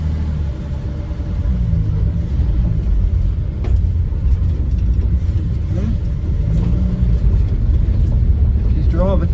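Engine of an old Dodge VJ ute rumbling steadily while the truck drives in low gear, a loud continuous drone with slight revving.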